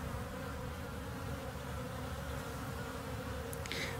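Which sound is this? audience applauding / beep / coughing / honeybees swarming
honeybees swarming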